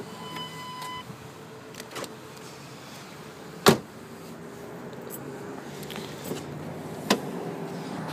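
A 2007 Ford Escape XLT's rear cargo door is unlocked and opened: a quiet hum, then one sharp latch clunk near the middle and a second, fainter click later, all fairly close in a calm setting.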